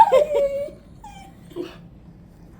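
A young puppy whimpers in a few thin, high cries, loudest at the start, then trails off into quieter whines with brief pauses, close by and alone.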